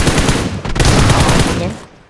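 Rapid automatic gunfire from Free Fire, a battle royale mobile game, bursts loud and dense in a sustained volley before tailing off, with a voice faintly under the shots.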